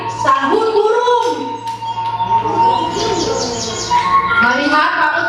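Bright chirping and cooing bird calls run continuously through a children's story, with a narrator speaking alongside them.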